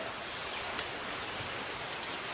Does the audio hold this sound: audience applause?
no